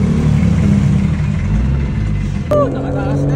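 A Nissan Skyline's engine runs loud and close in a steady droning roar as the gas pedal is pressed while braking, with a brief sharp change near the end.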